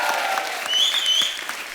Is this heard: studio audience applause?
yes